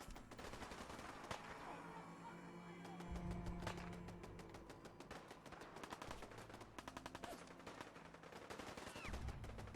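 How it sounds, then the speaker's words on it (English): Sustained gunfire in Fallout 4 during a midnight ambush, bursts of automatic fire and single sharp shots crackling continuously, some close and loud, others farther off, with no talking. "Plenty of gunshots shooting through."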